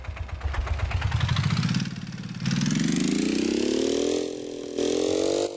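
A single-cylinder combustion engine in a building video game chugs with distinct low pulses at first, then climbs steadily in pitch as it revs up, holding a buzzy, even tone near the end.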